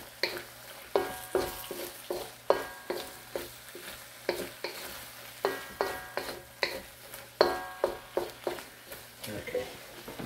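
Kung Pao chicken stirred in a hot pan gives a steady sizzle and frying hiss, broken by repeated scraping, clattering stirs in a fairly regular rhythm, close and moderately loud, with no talking.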